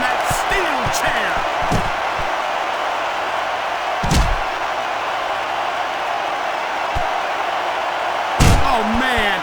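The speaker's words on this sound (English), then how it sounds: "A sickening impact from that steel chair." A steel chair slams into a wrestler in the WWE SmackDown! video game, a sharp heavy crash near the middle and another near the end, over steady arena crowd noise and commentators talking.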